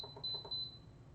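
Short electronic beeps from a cooker's control panel as a 15-minute timer is set, a few close, thin tones in quick succession in a quiet kitchen.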